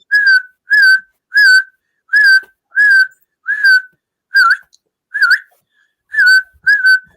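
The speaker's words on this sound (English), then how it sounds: "Where's that whistling coming from?" Repeated whistling with about ten short, bright whistled notes at an even pace, fairly close and clear, in a home setting with dogs, with no talking.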